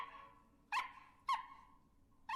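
Cartoon dog barking inside a lift: three short, sharp barks, evenly spaced and fairly distant, over a steady low hum.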